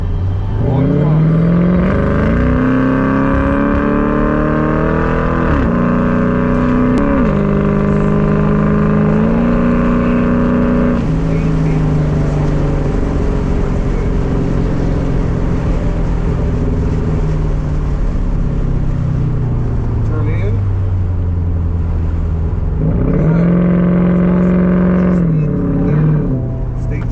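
Ford Crown Victoria race car built for track racing, its engine droning loud and steady on circuit with rising and falling pitch through shifts and corners, while an instructor talks over it.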